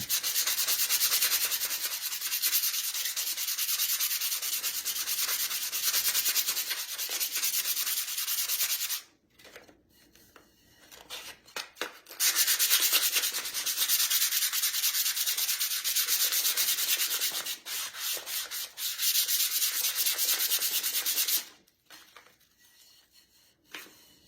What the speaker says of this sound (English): So just sand, and then you could feel when you're done.